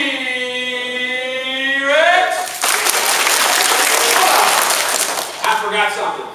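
An elementary school assembly crowd of children bursts into loud clapping and cheering after a few seconds of sustained shouting voices, the applause filling the room before a final cheer rises over it.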